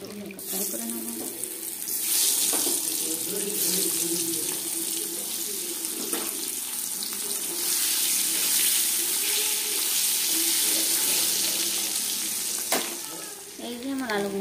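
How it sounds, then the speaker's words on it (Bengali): Potatoes fry in hot oil in a kitchen pan for a home egg curry, giving a loud, close, continuous sizzling hiss that swells slightly midway and holds steady to the end. "এই যে আমার আলুগুলো ফ্রাই হয়ে গেছে"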